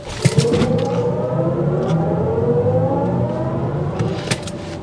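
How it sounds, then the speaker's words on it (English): A 2024 BMW iX xDrive50 electric SUV pulls away under launch control, its electric motor whine rising steadily in pitch with road and tyre roar, heard from inside the cabin without talking. "Or you can just simply stop here to do one more quick launch control."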